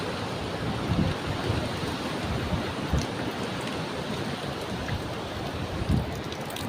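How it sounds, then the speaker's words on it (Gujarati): Rain falls steadily outdoors near a Mahadev temple at Palitana, a soft, constant hiss with a few slightly heavier drops standing out now and then. "વરસાદ ચાલુ થઈ ગયો"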